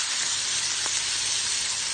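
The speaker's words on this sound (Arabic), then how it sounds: "هحط بقى الخضره لحد ما تخرج العصاره الجميله اللي فيها" Fresh dill, parsley and coriander drop into a pan of hot garlic, giving a steady, close frying sizzle that holds for two seconds, with a short faint tick partway through and no talk.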